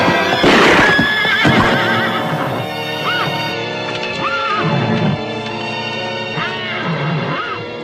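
A horse whinnies several times, loud and close, with hooves clip-clopping and stamping underneath.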